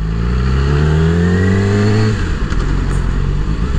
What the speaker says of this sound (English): I'm riding a Yamaha R6